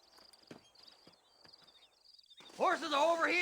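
Horse hooves clip-clopping in the Red Dead Redemption video game, a few sparse, moderately close hoof steps over a faint high ambient whine, followed by a voice talking.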